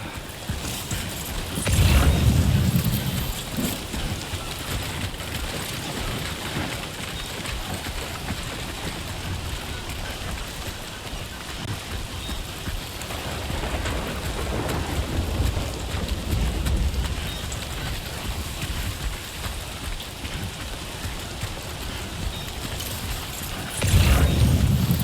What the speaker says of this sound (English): Just lying out here in the rain.